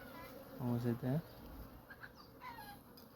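Honeybees at a honey farm in Saudi Arabia give a brief, close buzzing pass lasting about half a second, then fade into a faint hum and background noise.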